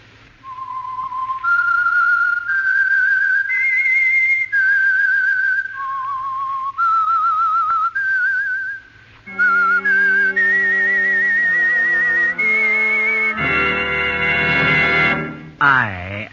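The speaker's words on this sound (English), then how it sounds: "That whistle is your signal for the Signal Oil program" A whistled theme for the radio mystery program The Whistler rises and falls as a solo melody of sustained notes, then swells with orchestral accompaniment into a loud closing chord.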